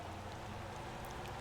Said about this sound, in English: it's getting a bit darker now that it's raining